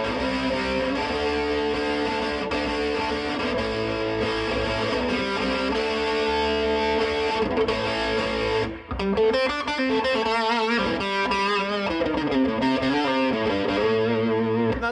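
A Randall RG80 112 SC solid-state amp's distortion channel drives a loud, heavily distorted electric guitar playing sustained chords and riffs with a thick, saturated tone, briefly cutting out before resuming.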